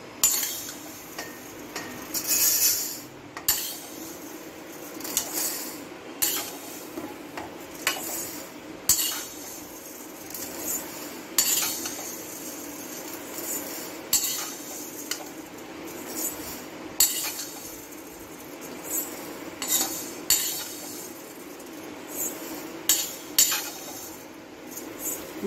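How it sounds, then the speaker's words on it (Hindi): Roasted vermicelli being moved from the pan into another vessel for a savory sevai dish, metal utensils and cookware clinking and scraping in repeated light taps throughout, close and fairly quiet, with no talking. "अब हम इनको दूसरे बर्तन में निकाल लेंगे।"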